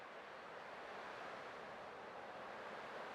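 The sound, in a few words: ocean waves in the video game Honkai: Star Rail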